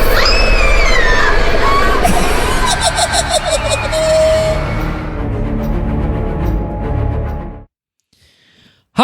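Screams from a voicemail hotline: several loud, shrill voices yelling and shrieking together over a crowded, distorted phone-line background, fading into quiet near the end.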